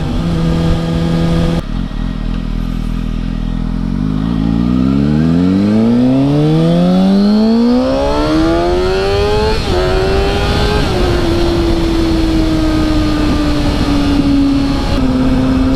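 A motorcycle fitted with a Motion Pro Revolver throttle kit and a Schnitz Racing ECU flash is ridden on and off the throttle, its engine loud and close, rising smoothly in pitch then easing, alone without talk.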